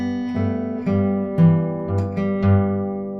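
Acoustic guitar fingerpicks the chorus of a song, plucked notes over a pulsing bass on the low string, played alone and close with notes ringing into each other.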